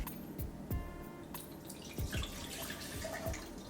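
Wild Turkey bourbon poured from a small bottle for a cocktail, with a close liquid pour broken into splashy drips and glugs, a few soft knocks mixed in, and no voices.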